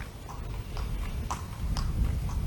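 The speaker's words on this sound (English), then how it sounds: "we're going to have some horses move around us" Horses walk around near a long-established small hotel at Carlisle Bay, their hooves clip-clopping in an irregular rhythm, moderately faint against a steady outdoor background.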